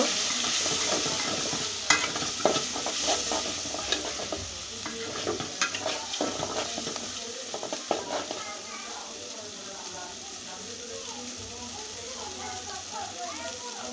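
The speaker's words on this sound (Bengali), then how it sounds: "এটাকে আমি ভালো করে নাড়াচাড়া করে কষিয়ে নিব" Chicken stir-fried with cumin in a pan, giving a continuous hiss of frying with irregular scraping stirs and utensil knocks, close and fairly loud, while a voice talks over it.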